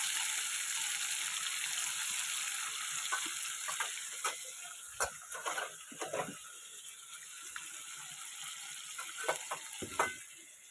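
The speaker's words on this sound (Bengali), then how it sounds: "এগুলো ভালো মতো ভাজা করে নেবো।" Fish oil frying in a pan gives a quieter steady sizzle, with scraping stirring clicks and clatters breaking in through the second half.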